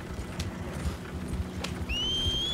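Horse hooves clip-clopping at a steady gallop in Red Dead Redemption 2, a regular pounding rhythm close by, with a couple of brief high whistling tones near the end.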